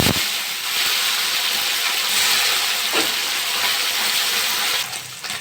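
Fish frying in hot mustard oil in a pan, a loud, steady, close sizzling hiss that holds without pause, with faint clinks now and then.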